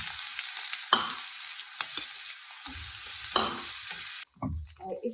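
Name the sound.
sautéing chopped capsicum, green chilli and tomato in oil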